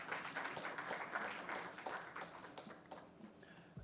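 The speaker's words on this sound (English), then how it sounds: "a big thunderous round of applause" Faint applause from an audience at a women's real estate awards conclave panel, a spread of clapping that gradually thins out toward the end.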